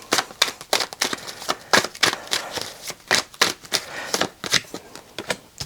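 A deck of tarot cards is shuffled by hand in close, crisp bursts of riffling and slapping that repeat in an uneven rhythm, with no talking over it.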